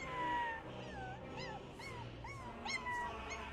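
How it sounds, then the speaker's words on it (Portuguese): A small female dog whimpers and cries in a run of high, wavering whines that rise and fall one after another, fairly quiet and close, with no talking. "E foi aí que ela ouviu a Lady gritar e chorar."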